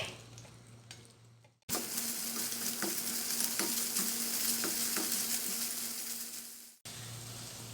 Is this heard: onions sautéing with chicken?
yes